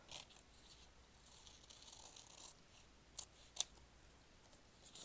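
Scissors cutting scrapbook photos: a few soft, close snips spread apart, with two crisp, distinct cuts near the end in an otherwise quiet room.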